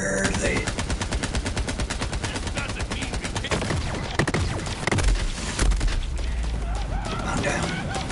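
Dense, loud gunfire from a PS4 shooter video game, rapid automatic bursts running throughout with a few heavier thumps near the middle and end, voices faintly mixed underneath.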